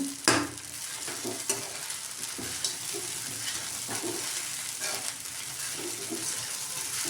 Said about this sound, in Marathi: आता याच्यावर आपण परतून घेऊया शाबू।